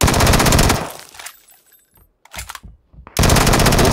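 Rapid automatic gunfire in the online shooter PUBG, loud sustained bursts at the start and end separated by a quieter stretch with a few scattered shots, no talk.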